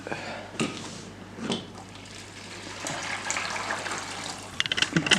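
Broth poured into a Tupperware Ultra Pro dish for risotto, a steady liquid gush running for several seconds, close and fairly loud, ending with a few small clinks.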